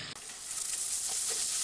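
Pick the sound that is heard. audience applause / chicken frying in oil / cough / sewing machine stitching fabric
chicken frying in oil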